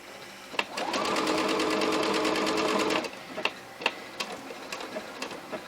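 A sewing machine runs a triple stretch stitch along a hoodie neckline in one steady rapid whirring burst of about two seconds, followed by sparse clicks and taps of handling.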